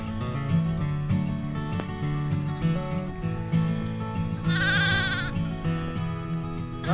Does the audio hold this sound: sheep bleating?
yes